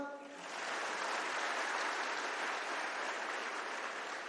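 Audience applause at a live event, a broad steady wash of clapping that swells in after a brief voice and holds moderately loud to the end.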